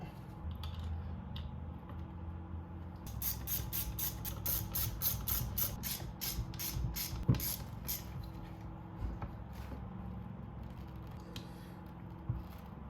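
Ratchet clicking in a quick run of sharp, evenly spaced ticks while bolts are tightened on a Honda CR125 two-stroke engine build, close up over low workshop hum, with a few scattered clanks afterward.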